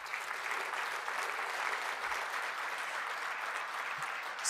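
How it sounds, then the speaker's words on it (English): Steady applause from a room full of people at a welcome gathering, a continuous dense clatter of clapping hands at an even level for several seconds, without speech. "So just give Missy and Kevin a round of applause"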